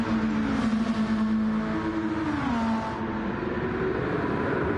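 A Gr.2 race car in a driving video game powers onto the longest straight at Road Atlanta, its engine droning loud and close as the pitch climbs and shifts, with other engines blending in and no voices.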